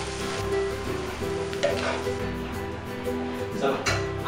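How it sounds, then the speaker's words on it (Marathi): Onion sautés in a pan for a Marathi-style wild kulichi bhaji, giving a steady, soft sizzle that runs beneath continuous spoken narration. "आपल्याला हा कांदा थोडा लालसर किंवा ट्रान्सपरंट होईपर्यंत आपल्याला परतून घ्यायचा"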